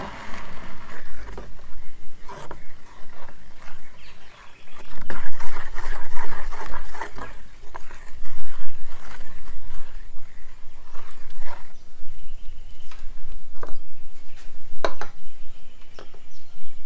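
A homemade natural soap mixture is stirred in a container, making continuous sloshing and scraping sounds with irregular swells, close and fairly loud, with occasional clicks of the utensil.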